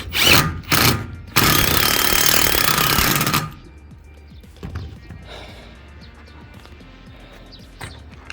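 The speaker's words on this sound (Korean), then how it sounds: "피스를 박도록 하겠습니다." A power tool drives countersunk screws into a polycarbonate canopy in a front yard: several loud, short bursts of whirring, then a long buzzing run of about two seconds. Quieter clatter and handling noises follow.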